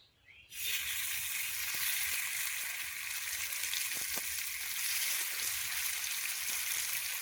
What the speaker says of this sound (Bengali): এবারে চিকেন টিক্কা ফ্রাই, তেলটা গরম হয়ে গেছে, একটা একটা করে ছাড়ছি বাবা।